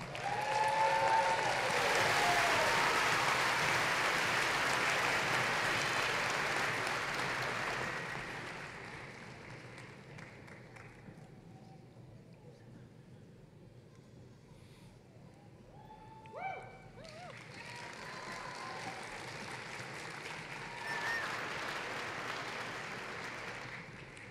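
Large crowd applauding at a high school graduation ceremony, loud sustained clapping that fades after several seconds into quiet murmur, then swells again into a second round of applause near the end.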